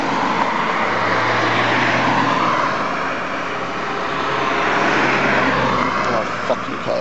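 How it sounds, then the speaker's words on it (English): Continuous roar of road traffic with vehicles passing, a loud steady engine drone rising and fading as they go by. "There are vehicles everywhere."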